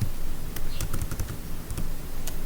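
Keys on a computer keyboard clatter in several short, irregular bursts of typing at close range, with a few separate clicks spread across the moment and no talking.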